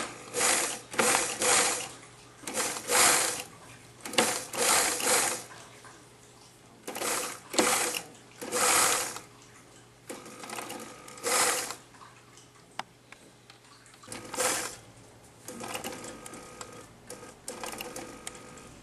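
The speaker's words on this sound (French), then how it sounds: "On va coudre dans la rainure à 1 cm du bord." A sewing machine runs in repeated short bursts of rapid stitching along a reversible skirt kit, sewn in the seam groove about 1 cm from the edge, with brief quiet pauses between runs.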